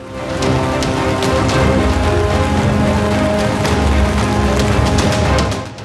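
Heavy rain pours over flooded city streets in Jaipur where vehicles plough through deep water, a loud, steady downpour with a constant hiss and scattered sharp splashes, alone without voices, fading slightly at the end.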